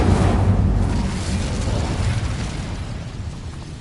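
An Incendio fire spell cast in the Hogwarts Legacy video game bursts with a loud whooshing, rumbling blast at the start that slowly fades into a crackling, roaring tail.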